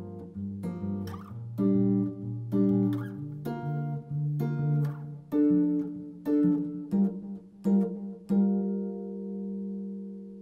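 Fingerstyle guitar plays a walking bass line, with the thumb stepping through low notes one at a time while fingers pluck chord tones above, in a steady, unhurried rhythm with no talking.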